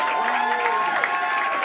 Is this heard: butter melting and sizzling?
no